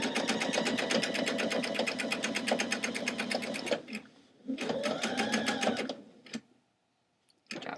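A sewing machine back-stitches along the leg of a pair of thrifted jeans in quick, even bursts of needle strokes. It pauses briefly, runs again, then stops near the end.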